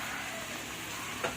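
Corned beef stirred and fried in a pan, giving a steady close sizzle with soft scraping throughout and a slightly louder stir near the end.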